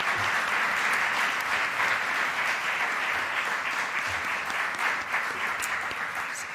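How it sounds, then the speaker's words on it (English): Audience applause for presenters at a plenary conference session in a hall, a steady dense wash of clapping that holds at even loudness throughout, no voices. "a round of applause for our presenters"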